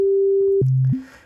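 An Ableton Operator synth tone with a square-wave LFO modulating its pitch, jumping abruptly between steady levels in hard steps, loud and alone, then fading as it ends.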